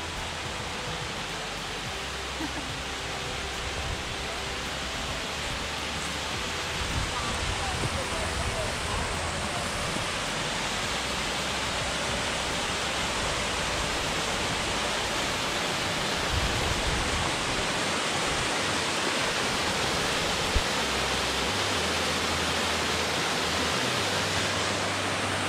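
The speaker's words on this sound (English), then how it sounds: "What do you think of that big waterfall? Biggest waterfall I've ever seen." A big waterfall on the Alum Hollow Trail near Huntsville, Alabama roars as a steady, loud, broadband rush of falling water that stays constant throughout.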